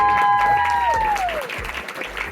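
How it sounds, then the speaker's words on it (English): Audience applauding after a post-screening Q&A for the film You'll Never Find Me at the Tribeca Film Festival. Clapping runs throughout, mixed with a sliding tone and other sounds, easing off slightly toward the end. "Another incredible round of applause for this."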